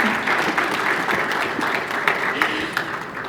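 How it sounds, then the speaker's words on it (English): Audience applause greeting a doctor being honored at an orthopedics and traumatology society annual meeting, steady dense clapping through the whole stretch, with voices mixed in. "Let's give him a round of applause for his books."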